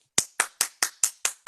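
Seven sharp, evenly spaced hand claps ring out alone, loud and close, in a brisk steady rhythm.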